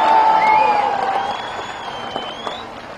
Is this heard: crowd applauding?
yes